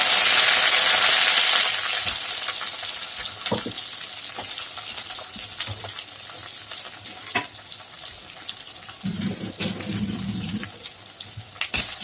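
Sliced onion with cumin and mustard seeds sizzles in a pan of hot oil and is stirred with a utensil, producing a steady loud hiss with scraping clicks. A louder burst of frying comes at the start.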